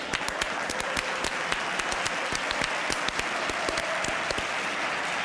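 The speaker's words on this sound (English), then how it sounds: "Round of applause for Ronaldinho," Applause for Barcelona legend Ronaldinho, heard as a fairly small group's crisp individual hand claps over a soft background wash, steady for several seconds during a Barcelona vs Inter Milan Champions League live stream.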